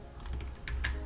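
Computer keyboard keys pressed for a Ctrl V paste shortcut, a few quick clicks up close over faint background hiss, with no voices.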